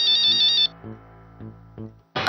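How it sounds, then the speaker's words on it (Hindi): A mobile phone rings in an indoor TV drama scene, a bright electronic ringtone melody in short repeated bursts, loud and close, with no one talking over it. "मानव बाबा का फोन।"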